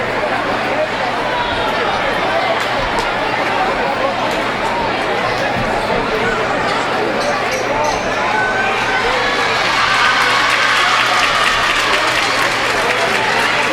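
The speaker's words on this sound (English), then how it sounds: "the crowd claps him up as he goes over to his bench" High school boys basketball crowd in a gym applauding as an injured player is helped to his bench, steady loud clapping and crowd noise sustained throughout, swelling slightly toward the end.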